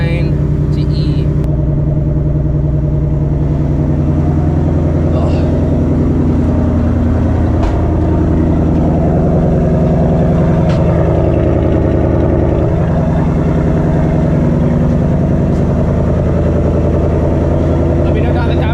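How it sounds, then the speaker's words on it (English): Stock active exhaust on an S650 Mustang GT with a Coyote V8, a steady low engine rumble heard from inside the cabin while cruising, loud and continuous with small swells in revs. "if you think the active exhaust, stock active exhaust, is one of the best sounding exhausts for a Coyote Mustang"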